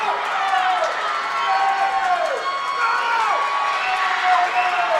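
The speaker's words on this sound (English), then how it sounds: "The crowd is cheering." Spectators cheer at a girls' high school swim meet in an echoing indoor pool, with sustained shouting and whoops alongside continuous talk.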